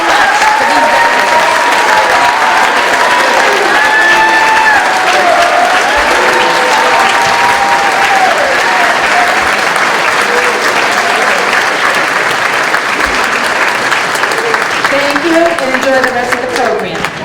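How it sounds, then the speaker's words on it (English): An audience at a Veterans Day ceremony at a high school applauds loudly and steadily for the whole stretch, with scattered voices and cheers mixed into the dense clapping. "let's give Mr. Tully a big round of applause"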